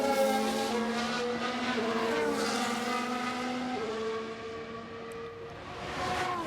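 Formula 1 race cars in the F1 Manager 2023 video game scream past on track, several high-revving engine tones rising and falling over each other in a loud continuous wail.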